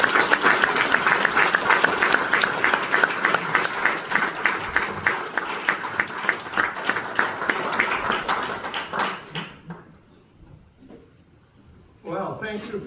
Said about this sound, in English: Ladies and gentlemen, please put your hands together for Al Alcorn.